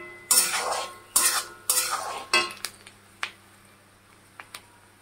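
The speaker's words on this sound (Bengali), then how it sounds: "পটল দিয়ে দেওয়া হলো, কাঁচা লঙ্কা দুটো দেওয়া হলো। তারপর দেখো, কাঁচা লঙ্কা দিয়ে দিয়েছি, সয়াবিন দিয়ে দিলাম। এগুলোকে একটু নেড়ে নেব।" Spoon stirring pointed gourd, soybean, green chillies and chana dal in a pan, several close scraping strokes with faint sizzling, then a few lighter taps fading out.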